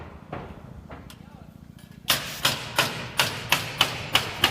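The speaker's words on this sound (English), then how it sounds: "He's nailing the, it's like the first of the roof sheathing up there." A worker nails roof sheathing onto the framing of a new house, a quick run of about eight sharp, evenly spaced hammer blows ringing out after a quieter stretch with a couple of faint taps.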